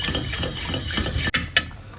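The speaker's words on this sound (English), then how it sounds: "Go ahead and add our cornstarch to the juices from the apple and stir everything in." A spoon stirs cornstarch into apple juices in a pan, giving steady soft scraping and sloshing close up, with a couple of sharp utensil clinks near the end.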